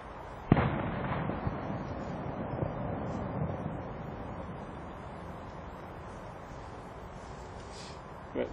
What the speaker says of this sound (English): With the military soldiers with these fireworks going off, but it sounds like World War